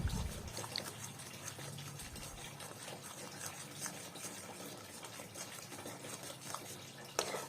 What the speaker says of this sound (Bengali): দিয়ে কম আছে এটা একটু ভালো করে আমি নাড়াচাড়া করে নেব।